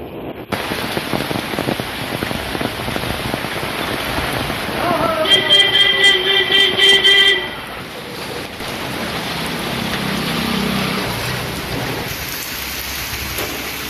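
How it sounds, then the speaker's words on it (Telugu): Heavy rain from Cyclone Fengal pours steadily in a dense, continuous wash, with a brief tonal horn-like sound cutting through midway and no talking. "అటు తుఫాను ప్రభావంతో తిరుపతిలోనూ వర్షాలు పడుతూ ఉన్నాయి."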